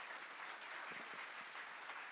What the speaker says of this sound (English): Ladies and gentlemen, a huge round of applause for our wise panelists.